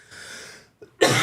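A person coughing after choking on their own spit: a short rough breathy cough, a brief pause, then a sharper louder cough burst, close to the mic.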